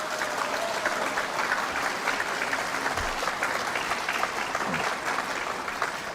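Audience applause fills a lecture hall at a talk on Korean reunification, a steady, dense clapping that holds at even strength without a break.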